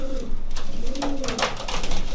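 Racing pigeons coo softly in a pigeon loft, close by, with overlapping low rolling calls over a steady rustle of wings and movement and no talk.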